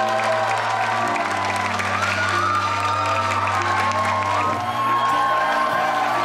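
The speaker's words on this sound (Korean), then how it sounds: "우리 하객 여러분들께서 큰 박수로 환호해 주시길 바랍니다" Wedding guests applaud steadily with a few cheers, a dense continuous wash of clapping close and loud, while a low sustained musical tone hums underneath throughout.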